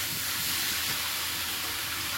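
Water poured into a hot pan of red-fried cauliflower and spices, giving a steady, loud hiss of steam and sizzle that runs unbroken throughout.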